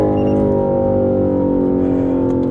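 A 2024 Lexus IS500's V8 engine holds a loud, steady, smooth drone throughout, close up and uninterrupted.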